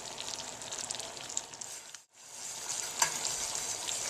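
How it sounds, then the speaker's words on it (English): Thick sugar syrup for marshmallows bubbles and sizzles hard in a pan, a dense crackling hiss that briefly drops out before resuming with sharp pops. "This whole pan is boiling really hard"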